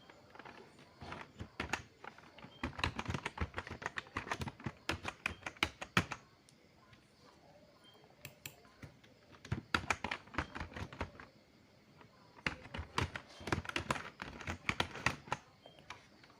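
A computer keyboard typing a password during a MySQL 8.0.22 Server install on Windows 10: close, crisp key clicks in three quick bursts separated by short pauses.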